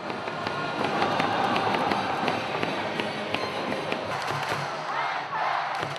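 A baseball stadium crowd cheers in the stands during a close, back-and-forth game, a dense, distant roar of many voices with scattered claps and thumps that holds steady throughout.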